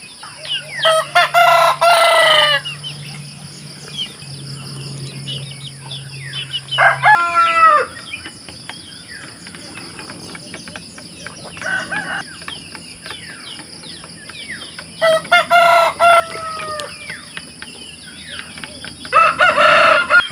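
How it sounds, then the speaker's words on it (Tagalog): Farm chickens cluck and squawk near and loud while roosters crow repeatedly at intervals, hungry birds gathered before morning feeding, with occasional wing flaps and no speech. "yung ibang mga manok na nasa labas na. Hindi sila makapaghintay sa loob. Gutom na."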